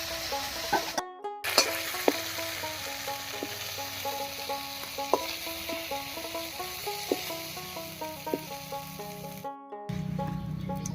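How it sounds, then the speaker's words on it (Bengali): Prawns frying in hot mustard oil in a wok give a steady, close sizzle and crackle for several seconds, with scattered sharp pops and spatters, and no talk. "মাছগুলো সব ভাজা হয়ে গেছে, নামিয়ে নিচ্ছি"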